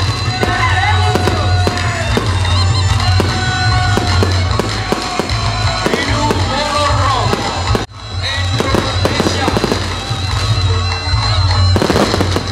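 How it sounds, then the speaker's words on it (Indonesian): Fireworks burst loudly and continuously over the main stage at the Grebeg Suro 2016 opening in Ponorogo, Indonesia, with rapid crackling pops and booms layered over a steady low rumble and distant crowd noise. "selama 30 menit panggung utama diberondong dengan letusan kembang api yang spektakuler"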